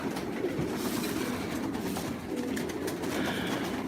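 Pigeons coo in a coop, several low throaty calls overlapping in a continuous murmur, fairly close, with soft rustling and shuffling beneath.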